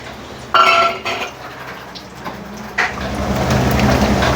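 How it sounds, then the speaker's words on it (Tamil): A ladle stirring bottle gourd payasam in a pot, giving a few close metallic clinks and scrapes against the pot, followed by a steady low simmering rumble. "பாருங்க, கிண்டிக்கிட்டே இருக்காங்க"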